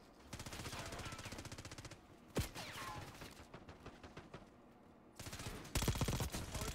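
Automatic gunfire from Black Ops 6 Season One multiplayer, rapid bursts of shots in quick rattling strings with a few louder single cracks, continuous and close, with no talk.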